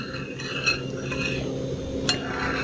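Hair oils are stirred and mixed in a bowl, making a short run of close scraping and swirling strokes with a couple of light clinks against the side, with no talking.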